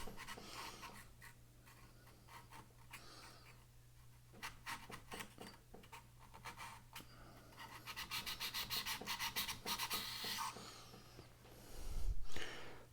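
Sandpaper rubs against the silver-plated contacts of a Telefunken Gavotte 5691 radio, making close, quick rasping strokes that grow louder and denser toward the end under a steady low hum.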